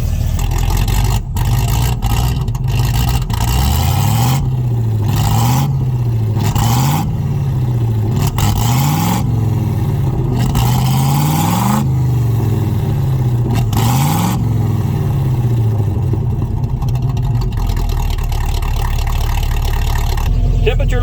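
A 1967 Chevrolet C50 truck engine idles while warming up after a nine-year rest, a loud, close, throaty rumble that rises and falls in slow surges with some clatter, and a voice speaks over it.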